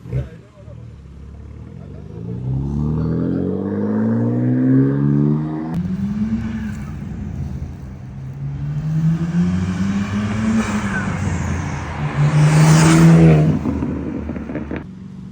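BMW G80 M3 fitted with new coilovers pulls in, its engine note rising and falling through gear changes from a moderate distance up to a louder close pass, with a person talking over it.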